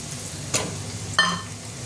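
Masala spices fry in oil in a pan for a Bengali-style stuffed chhana dalna, a low steady sizzle broken by two short sharp spatters or stirring scrapes.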